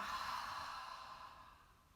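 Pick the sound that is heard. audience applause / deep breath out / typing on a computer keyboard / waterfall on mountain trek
deep breath out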